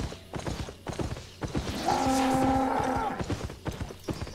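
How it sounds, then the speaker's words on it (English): In the video game Albion Online, a cow lets out a drawn-out tonal moo in the middle, heard over clattering hoof-like footsteps and other busy game noise. "Ooh, and mooing."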